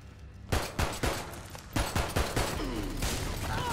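Pistol shots ring out in the shooter Army of Two: The Devil's Cartel, a string of single sharp cracks coming in small irregular clusters over a steady, noisy battle backdrop.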